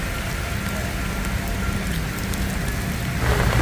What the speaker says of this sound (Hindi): लेकिन बारिश शुरू हो गई है।